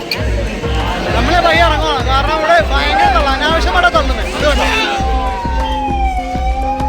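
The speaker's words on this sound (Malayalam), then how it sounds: "ആംബുലൻസ് പഴയ പോലെ തന്നെ വീണ്ടും പഞ്ഞുകൊണ്ട്" An ambulance siren wails repeatedly as the vehicle pushes through the dense festival crowd at Thrissur Pooram, loud and close, over the hubbub of the crowd and nearby talking.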